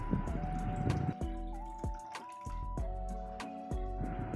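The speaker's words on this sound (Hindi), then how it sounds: "तो देखिए अब डालेंगे हम एग करी में पानी।" Water is added to an egg curry cooking in a pan. There are soft, repeated liquid drips and splashes over a steady low tonal background hum.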